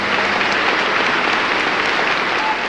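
Dense, sustained ovation from a large crowd applauding Stalin, steady clapping filling the whole stretch at an even loud level with no pauses or voices standing out.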